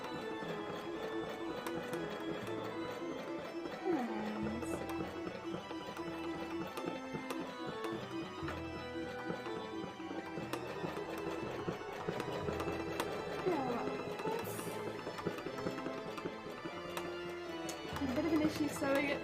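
Embroidery machine stitching a cosplay embroidery panel, a rapid steady mechanical tapping and whirring that runs throughout at moderate level.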